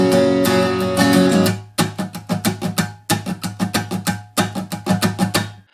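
Acoustic guitar strummed in a fast, upbeat pattern for a song, opening on a ringing chord before crisp rhythmic strokes in quick bursts, close and alone.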